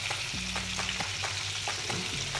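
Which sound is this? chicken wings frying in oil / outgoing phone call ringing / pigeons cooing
chicken wings frying in oil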